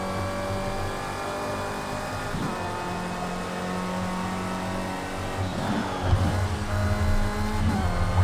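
Mercedes-AMG GT3 race car engine in a racing video game, a loud, steady, harmonic drone that holds its pitch and then surges as the revs rise toward the end, with no speech.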